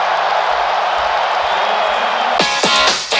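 Football crowd in the Alte Försterei stadium cheering a Bundesliga win over Borussia Dortmund, a loud dense roar throughout, rising into sharper bursts of shouting near the end.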